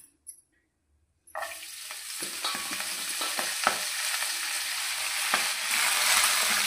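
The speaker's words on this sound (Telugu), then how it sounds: "ఒక 2 కట్టల బచ్చల కూర తీసుకొని శుభ్రంగా ఏరుకొని కడిగి కట్ చేసి వేయించుకుంటున్నా" Chopped Malabar spinach (bachala kura) hits a hot pan after a brief quiet moment, then sizzles and crackles steadily with occasional stirring scrapes, growing slightly louder toward the end.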